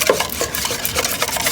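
Keto crepe batter being stirred in a bowl gives a brief, close run of steady scraping and swishing, with no voices.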